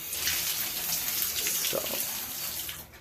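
A Peerless in2ition two-in-one shower head sprays cold water in a loud, continuous hiss, steady throughout before easing off at the end, with a man's brief word heard over it.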